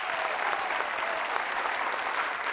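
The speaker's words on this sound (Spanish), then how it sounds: "va un aplauso" Studio audience applauding for cyclist Egan Bernal on a television talk show, a dense, steady wash of clapping filling the whole stretch at moderate loudness.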